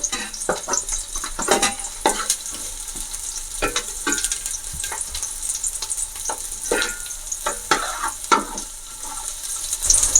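Sliced onions and green chillies sizzle in hot oil in a pan for chicken biryani, a steady frying hiss broken by repeated sharp crackles and scraping stirs, close and fairly loud with no voices.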